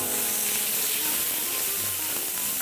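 Ground meat sizzles loudly in a hot pan for a Korean jajangmyeon, a dense steady hiss close to the microphone with faint scraping underneath.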